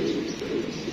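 Pigeons kept by a fancier give a steady, low, throaty cooing close by, continuous and fairly loud with no talk over it.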